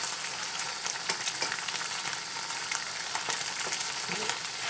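Slices of Spam fry in a pan with a steady, close sizzle and spitting crackle, crisp pops scattered throughout.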